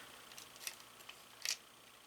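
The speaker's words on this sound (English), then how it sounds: "I like my rotary cutter." A quiet, close rotary cutter slicing fabric: a few soft crisp swishes and clicks against a hushed background, the last one slightly louder.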